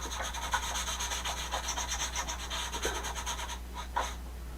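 Steady back-and-forth rasping of sandpaper on wood, close and rhythmic, with a brief pause and a few slower strokes near the end.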